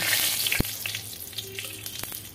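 Dried red chillies and nigella seeds hiss and crackle in hot oil, with a steady sizzle and a few sharp pops and spoon knocks, up close and with no voices.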